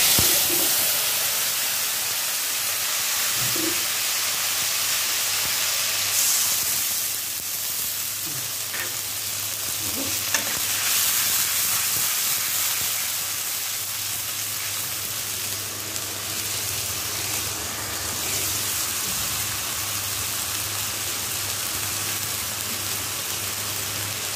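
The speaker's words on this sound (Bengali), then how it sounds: "আমি কাঁচা জিরাটা তেলে দিয়ে দিচ্ছি" Raw cumin seeds sizzle in hot oil for a tempering, a dense, continuous hissing crackle like rain on a surface, close and steady throughout with a few small clicks and no talk.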